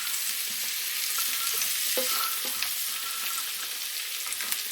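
Mushrooms fry in butter in a pan for a steak sauce, giving a steady, close sizzle with occasional light clicks and scrapes as they are stirred.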